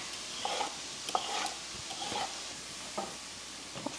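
Ground beef cooking in a pan on the stove, given a scattering of stirring scrapes and clicks over a soft, steady sizzle, fairly quiet throughout.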